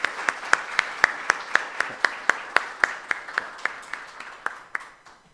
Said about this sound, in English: I request all of you to a huge round of applause for Dr. Ashish Chaudhary sir.